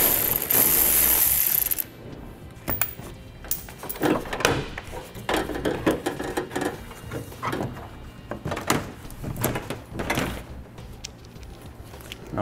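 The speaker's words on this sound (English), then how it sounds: "We'll just pull off these 10 millimeter plastic nuts." Plastic 10 mm nuts being pulled off from behind a vehicle panel while fitting a wiring harness with a 4-pole flat trailer connector, heard as a string of close, sharp clicks, snaps and rattling knocks, with a loud burst of noise at the start.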